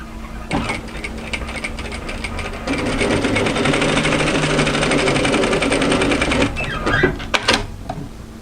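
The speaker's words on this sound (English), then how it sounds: "we are now going to sew directly through that overlocking line, and remember that we have increased our stitch length" A sewing machine stitches a winter tee dress straight along an overlocked seam with a lengthened stitch, a loud, steady, rapid mechanical chatter running for several seconds before stopping, followed by a few clicks of handling.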